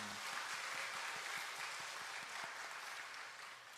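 Church congregation applauding together at a Korean worship service reporting on a short-term mission trip to Mongolia, steady dense clapping that fills the room and fades slightly at the end.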